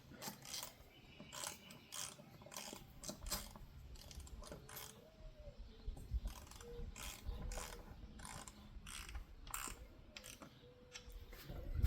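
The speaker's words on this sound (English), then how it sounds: "ratcheting torque wrench that I'm using, so go ahead and tighten these down a little bit" A ratcheting torque wrench tightens windshield bolts on a Triumph Scrambler/Speed 400 motorcycle, producing quick bursts of close, crisp clicking with short pauses between strokes.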